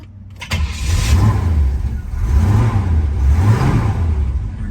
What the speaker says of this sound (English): We're going to start up our 68 Pontiac Firebird.